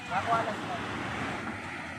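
Sea waves at Ulandaga Beach resort wash in a steady rush, with heavy wind buffeting the microphone and brief faint sounds near the start.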